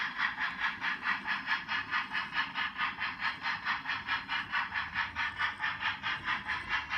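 A model freight train runs along a layout with a fast, regular pulsing chuff, evenly repeated throughout at a moderate, steady level, with no voices over it.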